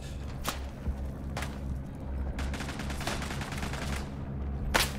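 Gunfire in the WWI shooter Isonzo, with sharp shots and a rattling burst near the middle over a steady rumbling battlefield bed, a loud crack closing the clip.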